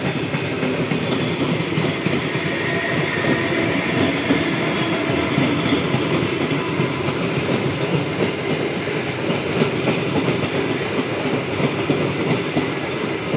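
A down MEMU local train on the Sealdah–Naihati line rumbles past close by, a loud continuous roar of wheels and carriages with steady clickety-clack throughout.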